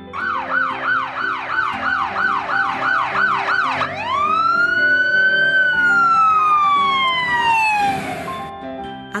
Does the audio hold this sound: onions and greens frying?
no